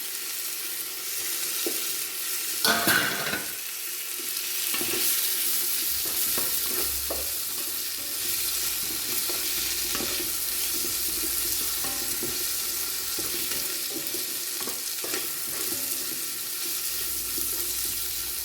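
Onion, tomatoes and slit green chillies sauté in a pan for chicken biriyani, a steady sizzle with intermittent scraping stirs and a louder clatter near the start, close and continuous.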